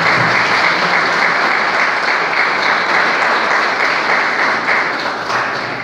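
Sustained congregational applause fills a church service, honoring the Lord for a preacher's life; dense, steady clapping from a large crowd runs loud throughout, fading slightly at the end.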